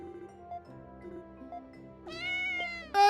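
A cat meows in the video game Ys IV: Memories of Celceta, with a drawn-out tonal call late in the clip and a sharper short cry at the end. Soft game music plays underneath throughout.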